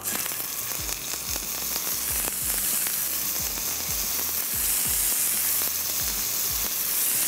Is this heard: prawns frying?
yes